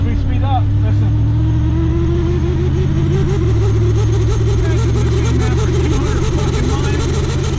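A hot rod engine on a road cruise rumbles loudly and steadily, its note rising and falling as the car speeds up, with people talking over it throughout.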